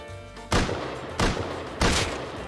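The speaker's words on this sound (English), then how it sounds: "there's like heaps of people shooting me right now" Gunfire in the survival game Rust, three loud, close bursts of rapid shots about two-thirds of a second apart, each followed by a lingering crackling tail.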